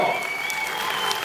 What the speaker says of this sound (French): Faites-leur encore un tonnerre d'applaudissements